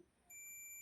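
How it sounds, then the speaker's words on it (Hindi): Steady high-pitched beep from a digital multimeter in continuity mode, switching on partway through and holding alone while an LED bulb's supply track is being checked during repair. "बीप का साउंड भी सुन सकते हैं।"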